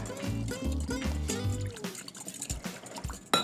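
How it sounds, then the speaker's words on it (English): Liquid sloshing and dripping as a sauce of chili flakes, water, fish sauce, sesame oil, sugar and garlic is stirred together in a bowl, close and wet, with a clink at the end. "We're going to mix this together."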